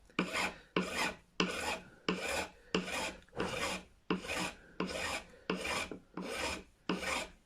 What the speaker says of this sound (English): I like using my fret file for this, I really shouldn't. It's just to shape the nut